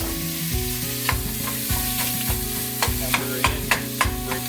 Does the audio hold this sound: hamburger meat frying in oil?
yes